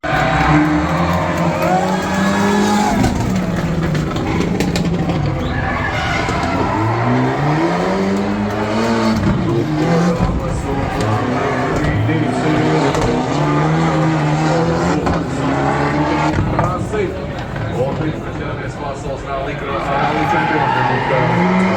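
Legendary rally cars race along a stage at Rally Latvia, with engines revving and rising and falling in pitch as they pass, tire noise throughout, and a commentator talking over them.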